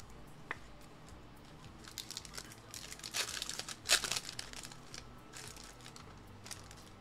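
WWE trading card packs being ripped open close by, crinkly foil wrappers crackling and tearing in irregular bursts that peak midway, then settle into lighter rustling, with no talk.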